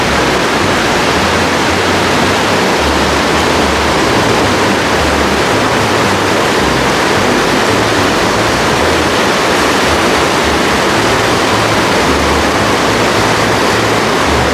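Heavy, high water rushes steadily through the marble Little Huson Caves on Vancouver Island, a loud, unbroken roar filling the space with no voices.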